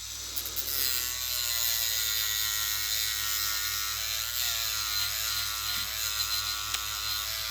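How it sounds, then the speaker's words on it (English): A grinder taking metal off a counterfeit Jufule Cortex XL knife part, producing a steady, close, high-pitched whine with a rough grinding edge that holds throughout. "Just hold it up against it and let it grind it off."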